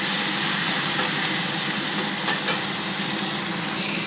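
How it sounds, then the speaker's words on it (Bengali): Tomatoes fry in a pan for a lentil and vegetable dish, a steady close sizzle with a couple of faint clicks of stirring, no voices. "টমেটোগুলোকে একটু ফ্রাই করে নেব।"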